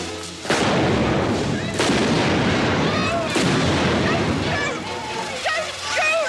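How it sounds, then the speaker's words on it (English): Cannon fire from the 1986 video game Pirates!: a string of loud, booming broadside blasts in quick succession, with splashing and shouted voices mixed in throughout. "Fire at will!"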